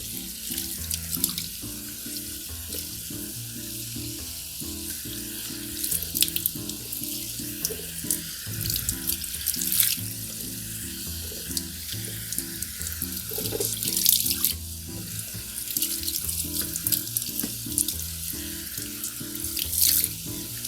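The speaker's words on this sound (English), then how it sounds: "then we're going to rinse it under the faucet" A wig with a silicone insert being rinsed under a running faucet, a steady close stream of water splashing and gurgling with uneven surges as the hair moves through the flow.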